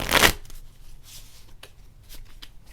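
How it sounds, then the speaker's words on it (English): Tarot cards are shuffled in one quick, loud riffling burst up close, followed by softer taps and slides of cards being handled. "I'm getting called to do a shuffle here"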